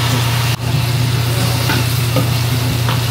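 Chicken being stir-fried in a wok with Kung Pao sauce, a loud close continuous sizzle under a low hum of the stove burner, one brief scrape of a spatula, no talking.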